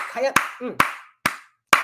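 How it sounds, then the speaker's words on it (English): Four sharp, loud hand claps ring out at uneven intervals, each a crisp isolated smack, with a voice talking between the first two. "let me give a hand clap"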